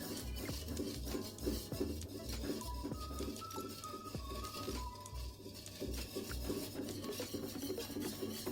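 Melted butter or margarine with salt is stirred in a pan over a stove, a utensil scraping and clinking softly against the metal in a steady rhythm, fairly faint over a low background hum.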